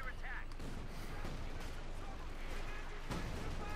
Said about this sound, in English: We got the major calling artillery